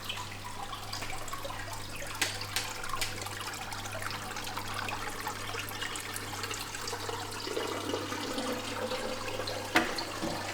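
Water running steadily through an aquarium sump on a Red Sea Max 500 just after the system is switched on: a continuous gurgling trickle under a low, constant pump hum, with occasional faint splashes.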